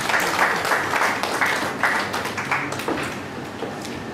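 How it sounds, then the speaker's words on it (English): Applause from an audience welcoming two guests onto the dais at a professional information session, a steady patter of clapping filling the room with a few sharper individual claps standing out. "Can we have a round of applause to welcome them to the dais?"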